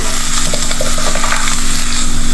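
Shallots hit a hot pan for a Kerala shrimp and jackfruit curry, giving a loud, steady sizzle with faint stirring scrapes throughout and no talking.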